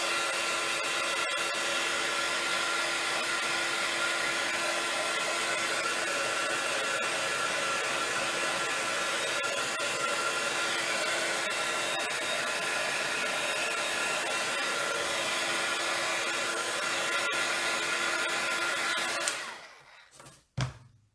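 A hair dryer blows steadily and loudly for about nineteen seconds over a layer of paint on a stencil, then cuts off, leaving a few faint handling sounds.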